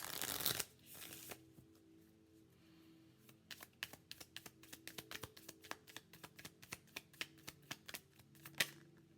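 Tarot-style wellness cards are shuffled close by in quick, crisp riffles and taps, a brisk uneven patter of card snaps that runs without a break and with no talking.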